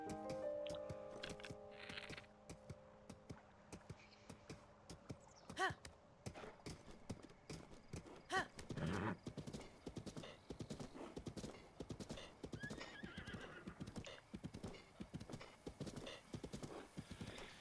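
Rapid, rhythmic hoofbeats of a galloping horse in the video game Zelda: Breath of the Wild, pounding steadily, with a whinny near the start and a few louder snorts mid-way.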